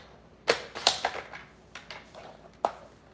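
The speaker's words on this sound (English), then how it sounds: "Okay, I'm gonna cut 1/4 inch off this side." A paper trimmer slices a quarter inch off a sheet of cardstock with a few sharp, close clicks and snaps, spaced irregularly with quiet pauses between them.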